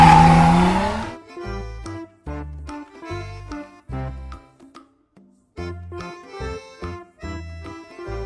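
A toy race car buzzes in short revving bursts, starting with a loud squealing rush and then several choppy engine-like pulses with brief gaps between.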